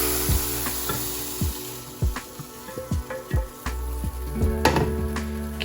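Beef browns in a hot pan alongside bacon over high heat, giving a steady oily sizzle broken by repeated spoon scrapes and knocks against the pan, with no talking.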